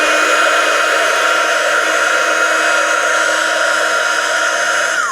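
A heat tool blows steadily on paper flower petals for a spring wreath craft, giving a loud, continuous, even whooshing roar close by throughout, with no talking.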